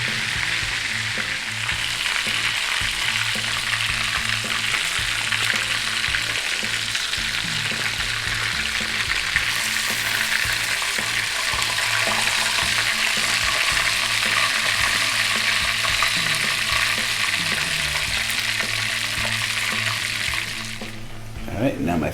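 Soft-boiled Scotch eggs fry in hot oil in a pan and are turned to brown evenly. A loud, steady sizzle and crackle runs throughout with occasional scraping, then eases near the end.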